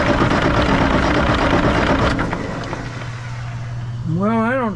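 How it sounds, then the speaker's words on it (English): A 1965 Kenworth truck engine is cranked to start, churning loudly and rhythmically up close before easing off into a lower mechanical drone, while people talk over it. "he's going to crank it some more, and we're going to see if it starts squirting out that other fitting"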